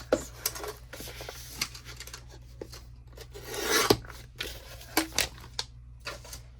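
Paper being trimmed with scissors while making a recycled book journal: soft rasping cuts and scratchy snips in irregular bursts, close and fairly quiet, with no talking.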